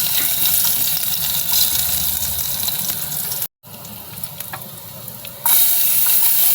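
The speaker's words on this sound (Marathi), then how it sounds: "आता लसूण फोडणीला घालते." Garlic hits hot oil for tempering, giving a bright, hissing sizzle that runs steadily, drops out briefly, then resumes a little louder toward the end.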